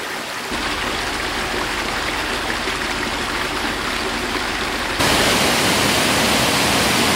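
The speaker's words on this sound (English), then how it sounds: "Lovely little waterfall." Continuous rushing water of a small waterfall, a steady broadband roar that grows louder partway through as if approached.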